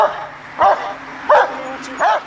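A police dog barks three times in a steady rhythm during a late-night arrest of a suspect found sleeping under a tree. The barks are loud and close, with a low hum running between them.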